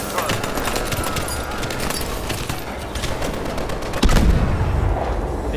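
An assault gun firing in Call of Duty: Advanced Warfare, set in Seattle: steady rapid, close gunfire with booming impacts, swelling into a heavier blast near the end, with voices under the shooting.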